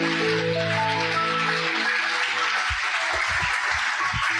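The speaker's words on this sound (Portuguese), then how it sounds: "Vamos aplaudir Jesus bem forte" A church congregation applauds loudly, a dense wash of clapping that runs throughout with some sustained tones fading in the first half and a few low thumps later on.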